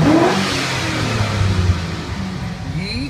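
A 2005 Chevy L33 5.3 LS V8 with 167K miles, running over temperature, revs up loudly then winds down, a close, sustained engine roar settling into a lower whir.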